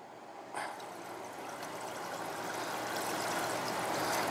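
A second-floor toilet being flushed during a check for a major water leak, its rush of water starting sharply and then swelling into a steady, building gush that runs on without any talk.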